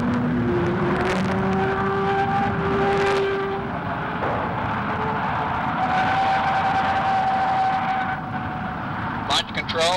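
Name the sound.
Lockheed F-104 Starfighter jet aircraft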